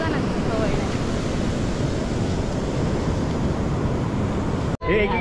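Sea waves wash ashore on the beach at Guhagar while strong wind buffets the microphone, a steady, loud, full roar that cuts out abruptly near the end before resuming.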